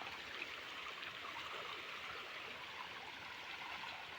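Floodwater rushes steadily past a village embankment, a continuous broad wash of flowing water heard at a moderate distance with no pauses.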